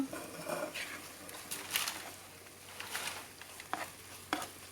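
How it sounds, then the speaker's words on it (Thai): Thai red curry paste stir-fried with a little coconut cream for a chicken and eggplant curry, giving a soft, uneven sizzle and scraping stir under a steady low hum. "ผัดพริกแกงให้มันหอมหอมให้พริกแกงมันสุกก่อน"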